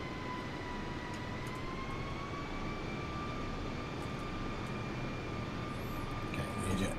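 Airliner taxiing in Microsoft Flight Simulator on a Liverpool to Heathrow flight, a steady jet engine whine with two sustained tonal lines over a broad rumble, continuous and even throughout.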